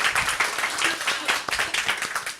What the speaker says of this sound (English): Let's give a round of applause to you for coming here.